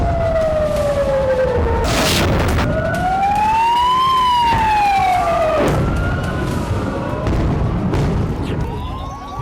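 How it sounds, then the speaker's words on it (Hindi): A loud alert siren wails during a night of rocket and missile fire in the Israel-Iran war, its pitch sweeping up and down repeatedly, with heavy booms and rumbling mixed in underneath throughout. "कलेजे को चीर देने वाली अलर्ट सायरन की आवाज।"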